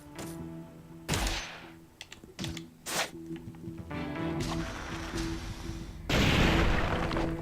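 Explosive kunai blasts in the video game Ninja Gaiden Black: several sharp booming bursts, one near the start, a few through the middle, and a longer loud blast near the end, over steady game music.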